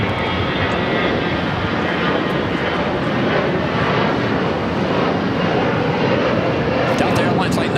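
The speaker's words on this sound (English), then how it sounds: "Delta Airlines Flight 914 heading to Minneapolis in an A321." A Delta Airlines Airbus A321 jet roars steadily and loudly at LAX, a dense continuous engine rush that holds for several seconds without letting up.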